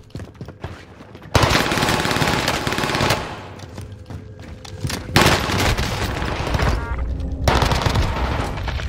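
Loud, close gunfire in a first-person shooter video game: sustained automatic bursts broken by short pauses, dense and continuous, with no voices heard.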